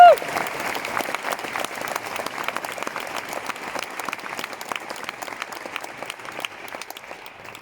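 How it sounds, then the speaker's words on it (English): Audience at a talk in Budapest giving the speakers a round of applause, a full burst of many hands clapping that holds steady and slowly fades toward the end, with some crowd noise mixed in. "Let's give them a major round of applause."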